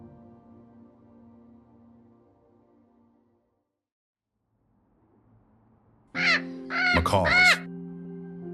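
Macaws in the Amazon rainforest canopy let out a burst of loud, harsh, raspy squawks, two or three calls close together. They break over a steady sustained background tone that follows a quiet stretch.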